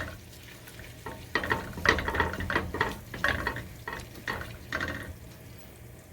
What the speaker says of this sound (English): you can hear that sizzling that's starting to happen in there